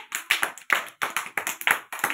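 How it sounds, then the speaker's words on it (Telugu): Young preschool children in an Anganwadi classroom clapping their hands, about ten sharp distinct claps in a fairly steady rhythm, close and clear with no talk. "క్లాప్స్ కొట్టండి అందరూ"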